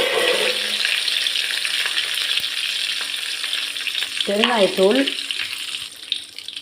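Dried chillies, curry leaves and turmeric powder frying in hot oil for tamarind rice, a continuous close crackling sizzle with brief stirring clinks and a short burst of sharp spattering near the end.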